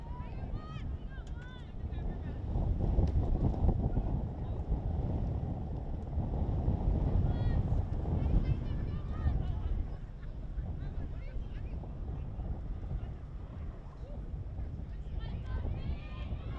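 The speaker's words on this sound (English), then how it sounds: "Very windy here this afternoon" Steady low rumbling wind buffets the microphone at an outdoor girls' varsity softball game, with broadband gusty noise and a faint voice or two mixed underneath.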